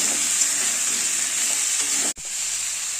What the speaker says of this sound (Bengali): হলুদ দিয়ে দিয়েছি, নুন দিয়ে দিলাম, দিয়ে আলুগুলোকে ভেজে নেব